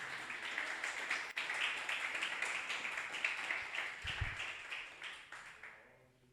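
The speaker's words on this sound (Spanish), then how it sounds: "Denle un fuerte aplauso al Señor en esta hora." Church congregation clapping at a Spanish-language service, a faint, continuous patter of many hands that thins out and fades away at the end.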